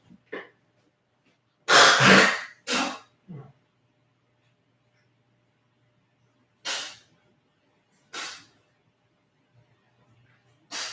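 Several separate bursts of coughing and throat clearing, loud and close, with long quiet gaps between them and no talking.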